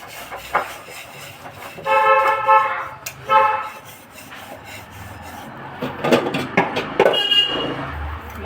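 A horn sounds from a vehicle passing outside a home kitchen while dishes are being washed, with two short honks of a few seconds each over scraping and clattering of utensils.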